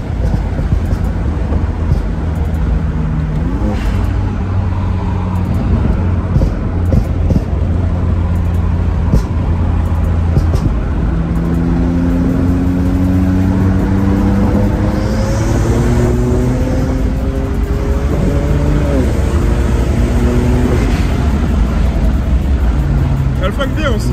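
A 600-horsepower tuned BMW 335i drives and brakes, its engine a steady loud drone that rises in pitch and then falls away under deceleration, with road noise filling the background.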